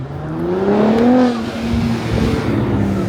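A McLaren 720S with a RYFT widebody kit revs up nearby, its engine note climbing and falling in a loud, close rumble.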